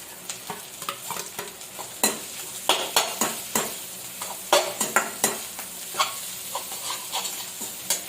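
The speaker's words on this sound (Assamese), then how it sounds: "আলুটো অলপ সময় ফ্ৰাই কৰিব লাগিব।" Potato pieces fry in a bent wok, with a steady sizzle under repeated close scrapes and taps of a spatula stirring against the metal.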